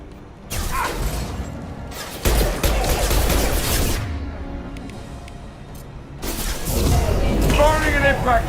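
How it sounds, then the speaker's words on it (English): Impact shot gunfire in the video game Mass Effect, loud bursts of rapid fire and booming blasts arriving in several waves, with game voices mixed in among the shots. "Firing an impact shot!"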